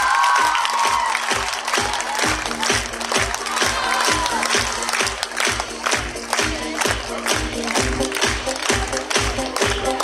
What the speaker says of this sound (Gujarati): આપણી તાળીઓનો ગડગડાટ ચાલુ રહેવો જોઈએ.